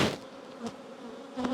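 Honey bees buzzing close by during a hive colony inspection, a thin steady drone with a few louder swells as individual bees pass near, brief and without talking.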